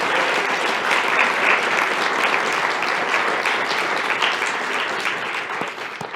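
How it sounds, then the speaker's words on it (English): Sustained applause from the audience at the Chicago MLK Jr. Oratory Competition, a dense, steady wash of many hands clapping that holds for several seconds before easing slightly at the end. "Give them another round of applause"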